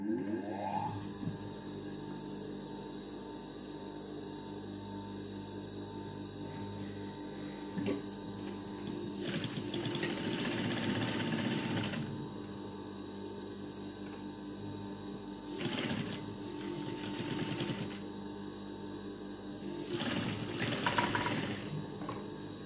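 A sewing machine stitching fabric in a tailoring lesson on setting in a sleeve, a steady motor hum with louder whirring runs of stitching that start and stop several times.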